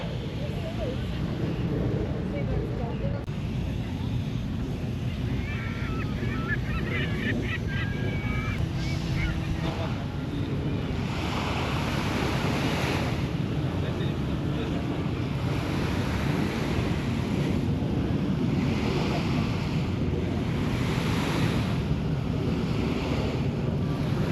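Steady roar of surf washing onto Palawan Beach, Singapore, with gusting wind noise over the microphone throughout and faint voices in the background.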